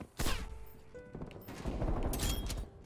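Rapid bursts of heavy-recoil gunfire in a Call of Duty Cold War multiplayer match, loud and close, with a sharp opening shot then sustained rattling fire through most of the moment, mixed with game effects.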